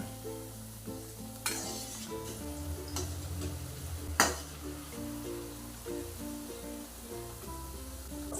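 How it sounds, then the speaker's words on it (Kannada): Onion pakoda deep-frying in oil over a medium flame in a kadai, a steady close sizzle and bubbling that runs throughout, with a few sharp clinks and stirring knocks. "ಸೊ ಈ ರೀತಿ ಮೀಡಿಯಮ್ ಫ್ಲೇಮಲ್ಲಿ ಗೋಲ್ಡನ್ ಬ್ರೌನ್ ಕಲರ್ ಅಂದರೆ ಈ ರೀತಿ ಕಲರ್ ಆಗೋವರೆಗೂ ಫ್ರೈ ಮಾಡೋಣ."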